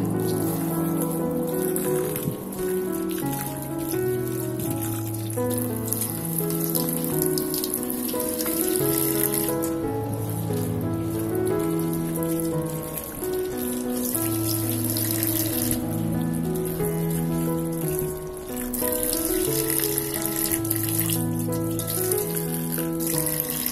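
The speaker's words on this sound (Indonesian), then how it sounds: "Cuci bersih juga tauge dan tahunya." Bean sprouts and tofu are washed under running water, a steady splashing tap stream throughout, close and fairly loud, with tonal background music playing underneath and no talk.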